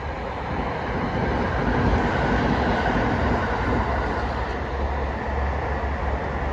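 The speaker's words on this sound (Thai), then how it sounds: "รถไฟฟ้าสายสีแดงนะครับ" A continuous loud rumble of a Bangkok Red Line electric commuter train rolling by close, with a steady roar and faint rail clatter throughout, no talking.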